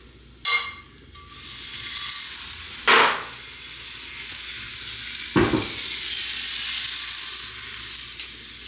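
Butter sizzling in a pan for buttermilk pancakes, a steady hiss with a few sharp clinks and scrapes as the pan is handled.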